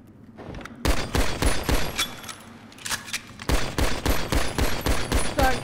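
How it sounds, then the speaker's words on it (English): Rapid bursts of airstrike gunfire from jets in GTA V come in dense, loud volleys, with a brief pause in the middle before the barrage resumes just as hard. "Airstrike"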